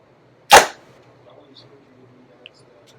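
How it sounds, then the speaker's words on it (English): A PSE Stealth SE carbon compound bow looses an arrow through a chronograph, giving one sharp, loud release snap and a quick thrum that decays within a fraction of a second, then near silence with a faint tick afterward. "Let's shoot it through the chronograph."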